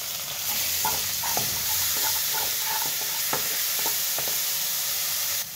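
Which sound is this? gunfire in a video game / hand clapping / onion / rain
onion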